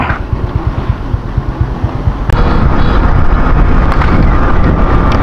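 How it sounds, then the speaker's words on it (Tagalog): Strong wind roars and buffets the microphone with steady, loud rumbling, gusting harder partway through and continuing without letup. "Grabe, lakas ng hangin."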